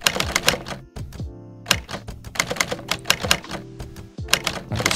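Rapid clacking keystrokes of a retro typewriter effect from the Hanx app, crisp mechanical strikes in quick bursts with brief pauses and a bell-like ding partway through, close and alone.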